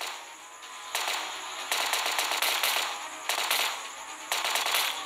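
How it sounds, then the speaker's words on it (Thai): Bursts of rapid automatic gunfire from a zombie-shooting video game, several loud volleys in quick succession with short pauses between them. "ได้เวลายิงซอมบี้แล้วโว้ย"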